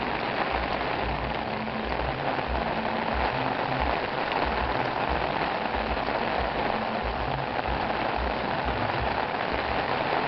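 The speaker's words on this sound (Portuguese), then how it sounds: "Muita chuva na terra da Boa Esperança." Heavy rain pours down continuously in the Brazilian sertão, drumming steadily on a surface, loud and unbroken with no voices.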